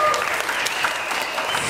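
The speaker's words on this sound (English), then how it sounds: "So please clap your hands, everyone." Festival audience clapping at the Rainforest World Music Festival mini session, a brief, dense burst of applause from many hands, close and fairly loud throughout.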